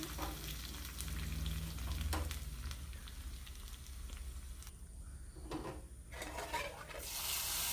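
A tempering of lentils and crushed garlic sizzles steadily in a hot pan for a brinjal and drumstick curry, a dense continuous crackle with a few scraping clicks and no talking.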